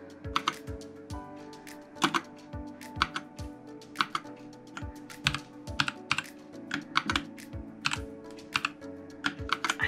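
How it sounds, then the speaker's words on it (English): Fingers type on a new light-up computer keyboard, producing rapid, uneven bursts of crisp key clicks close up, with no talking over them. "he also got me this keyboard, which has different light settings as well."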